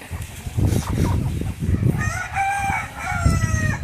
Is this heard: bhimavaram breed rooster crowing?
yes